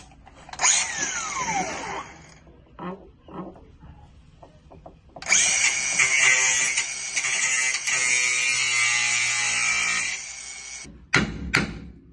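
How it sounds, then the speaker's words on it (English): A cutoff wheel cuts through a nut during a 2-inch lift kit install on a Chevy Tracker. A spinning whine winds down early, a few clanks follow, and then a loud, steady grinding cut runs for about five seconds before stopping abruptly. "use this cutoff wheel, cut that nut off"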